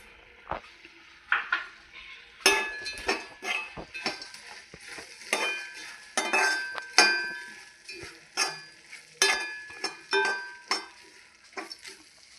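Dried prawns being stirred and roasted in a pan, with repeated scraping and clinking of a spoon against the metal over a soft sizzle, in irregular bursts close up with no talk.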